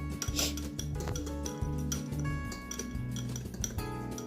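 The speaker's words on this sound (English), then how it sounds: "You have to whisk it. Hurry up and whisk it." A whisk beats rapidly against the sides of a bowl while making cinnamon roll batter at home, producing quick continuous clinking and scraping strokes with a rhythmic pulse.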